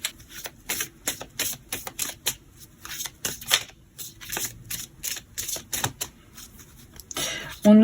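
Tarot cards shuffled and laid down in a December reading, giving a dense run of crisp flicks and snaps across the whole stretch, close and fairly loud, with no talking.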